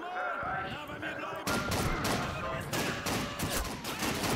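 Rapid rifle gunfire in Call of Duty 2 during a Russian wartime mission, a dense fusillade of loud close shots that thickens after a brief quieter start, with other battle noise mixed in.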